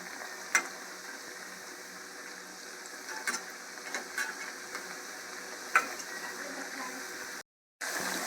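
Methi vadi, fenugreek-leaf fritters, shallow frying in oil in a pan, giving a soft continuous sizzle broken by a few sharp pops and light utensil clicks, with a brief dropout near the end.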